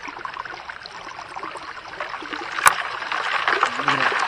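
Creek water runs steadily through a new Phoenix Gold sluice on an overcast creek bank, a continuous close rushing and trickling with one sharp knock partway through and someone talking over it.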